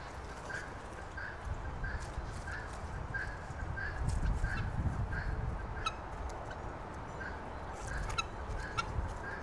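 Guinea fowl calling near their nest outdoors, a faint series of regular, evenly spaced short cries repeating about twice a second over soft rustling background noise.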